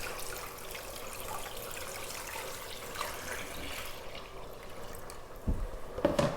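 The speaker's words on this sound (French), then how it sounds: "on ajoute de l'eau froide" Cold water runs steadily into a bowl holding salted cod in a home kitchen, a continuous pouring rush that splashes and gurgles more sharply near the end.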